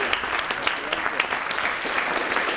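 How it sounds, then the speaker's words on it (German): An audience at a competition final applauds the contestants after the jury's verdict. Brisk, even clapping from many hands runs steadily through the short stretch. "der Applaus, der gilt euch allen"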